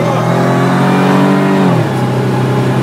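Pontiac Fiero GT fitted with a supercharged 3.8-litre engine from a W-body Pontiac, running about 10 pounds of boost, revs loudly and steadily up close, its pitch climbing before dropping back sharply near the end, with no talk.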